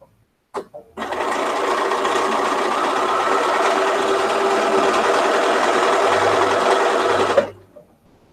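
A sewing machine stitching a quilt seam, one close, loud, steady run of rapid mechanical whirring lasting several seconds, starting and stopping abruptly with a click just before it begins.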